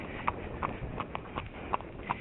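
Horse cantering, steady three-beat hoof clops repeating about every third of a second, clear and mid-distance over faint background noise.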